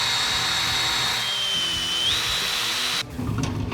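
A power drill bores holes into a part for an old Toyota truck sleeper build, running as a loud, steady high whine that dips slightly in pitch before cutting off into a rougher, lower grind near the end.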